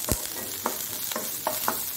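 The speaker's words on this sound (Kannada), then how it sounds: "ಕಾಯಿಸ್ಕೊಂಡಾಗ ಒಂದು ಕರಿಬೇವಿನ ಸೊಪ್ಪನ್ನು ಸಹ ಒಂದು ಎಳೆಯಷ್ಟು ಹಾಕೊಳ್ತಿದ್ದೇನೆ ನಾನು." Curry leaves sizzling in hot oil while cooking a Mangalorean raw mango and dry mackerel saaru, a close, steady frying hiss with a few brief stirring clinks and pops.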